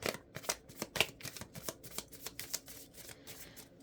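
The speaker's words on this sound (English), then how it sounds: "I feel like pulling one of my love oracle cards." A deck of love oracle cards is shuffled close by in quick, regular riffling bursts, each a soft papery slap repeating steadily for several seconds, quiet and with no talking.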